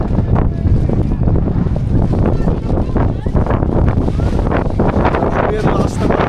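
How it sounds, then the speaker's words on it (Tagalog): Strong wind buffets the microphone on the fog-covered summit of Fansipan peak in Vietnam, loud and gusty throughout, with a person talking over it. "Ang lakas ng hangin dito."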